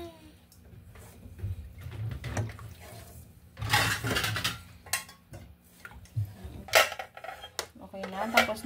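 Metal utensil scraping and clinking against a cooking pot of sinigang, irregular knocks and clatter at close range, louder bursts in the middle and near the end, with no clear talk.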